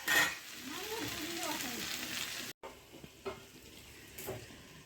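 Potatoes fry in a pan with a steady close sizzle and occasional stirring scrapes, while a voice speaks over the first half before a brief cut.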